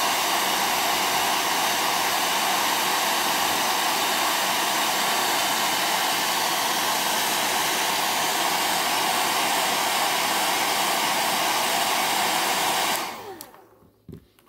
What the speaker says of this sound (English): I always try to keep the hair dryer moving because you don't want to keep any hot spots in your figure.